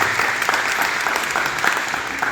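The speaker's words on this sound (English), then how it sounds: "we'll give a round of applause" A crowd at the Deer Park Veterans Memorial service gives a round of applause for memorial donors, steady, even clapping from many hands throughout.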